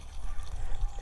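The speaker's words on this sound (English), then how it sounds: "literally just fill the hole with water." Water pouring from a watering can into a leek planting hole in a garden, a short splashing, gurgling flow with uneven surges.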